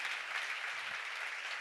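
Congregation applause at a church seminar on Matthew chapters 8 and 9, a steady, dense clapping that fills the whole moment with no voices over it.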